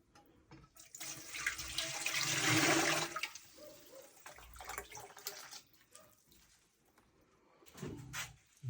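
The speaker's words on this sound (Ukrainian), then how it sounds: "Заливаємо водичку. 2 см зверху має покрити банки." Water pours from a tap into an autoclave pot to cover canning jars of pike in oil, a rushing stream building to a strong gush before trailing off into splashes and drips, close by and without talk.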